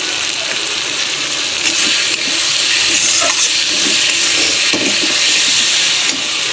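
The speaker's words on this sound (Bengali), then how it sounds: "তাহলে একটু জল দিয়ে দেওয়া যাক" Water splashed into a pan of frying spices (ginger-garlic paste, turmeric and chili powder) for a fish and matar dal dish, giving a loud, steady steaming hiss and sizzle that runs throughout with no talking.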